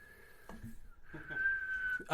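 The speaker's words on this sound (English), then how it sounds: "I have to suck air in to like whistle." Someone whistles by sucking air inward, producing a thin, steady, slightly wavering tone in two stretches, with a brief pause and soft breathy noises around it, close to the listener.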